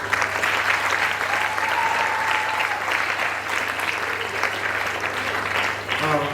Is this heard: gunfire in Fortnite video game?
no